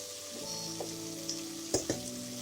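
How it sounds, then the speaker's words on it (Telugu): Boiled raw banana pieces fry on a low flame in a pan, a soft steady sizzle with a few light clicks and scrapes from stirring. No one speaks. "ఈ అరటికాయ ముక్కలు వేసేసి కొంచెం లో ఫ్లేమ్లో విడివిడిగా వేయించుకోవాలి"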